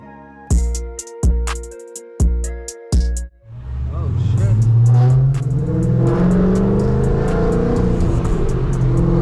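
A 5.7 Hemi V8 with longtube headers, straight pipe and an E85 tune barks through four sharp, loud revs, then roars into a sustained hard acceleration heard from inside the car.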